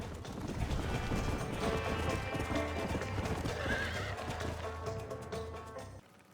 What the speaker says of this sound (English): then we do a horse race, which I win